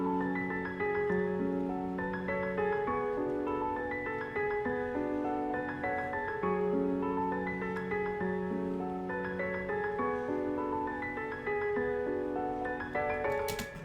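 A looping synth top-line melody layered over a hard rap-style beat, with repeating stepped notes and steady pulses running throughout at even volume.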